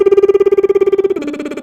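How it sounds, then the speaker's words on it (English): A mezzo-soprano sings a descending octave arpeggio on a lip trill, a buzzing, rapidly fluttering voiced tone that steps down in pitch partway through and grows thinner and brighter near the end, heard alone and close. "the first step is an octave arpeggio descending with the lip trill"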